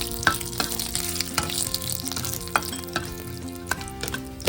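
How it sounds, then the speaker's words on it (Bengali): Garam masala, bay leaf and dried chilli frying in a pan, giving a steady close sizzle with sharp clicks and scrapes of stirring at irregular moments. "এবার আমি সুন্দর করে মশলাটা এই 1 মিনিট মতন ভেজে নেব।"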